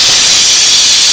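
Steam hissing loudly and continuously from a pressure cooker whistle while chicken cooks for a chicken pickle, a close, unbroken high rushing blast.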